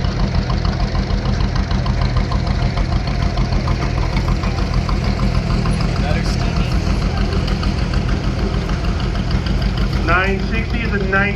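An HD5 tractor with a Detroit diesel engine rumbles loud and steady as it drives in a tractor and vehicle parade, with knocking diesel clatter throughout and a voice talking over it near the end.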